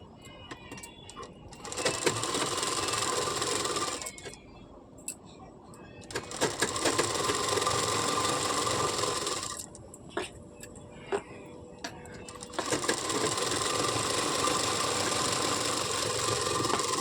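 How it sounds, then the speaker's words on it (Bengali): Sewing machine stitching the sleeve hems of a round-neck nightie, three loud steady whirring runs of a few seconds each, separated by quiet gaps with fabric handling. "এইভাবে কিন্তু দুটো হাতার মুড়ি আমি সেলাই করে নেব"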